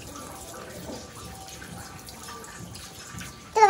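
Water splashing and running while a motorbike is washed, a soft steady trickle and spatter with a brief louder burst at the very end.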